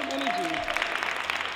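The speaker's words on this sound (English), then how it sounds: "so clap it up a little bit more, like, let's get some energy" Audience clapping at a women's meeting workshop, forming a dense, steady patter of many hands that continues throughout while a voice speaks over the start.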